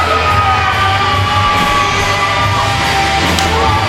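A wrestling arena crowd yelling, whooping and cheering for wrestler Rick Feinberg, a steady dense roar with scattered shouts.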